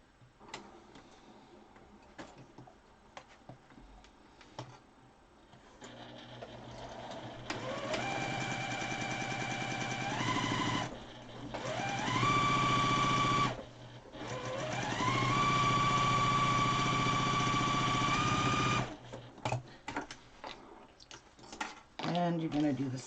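A sewing machine stitches a fabric face mask in several bursts, its motor whirring loudly in runs separated by short pauses, with quieter handling sounds around them.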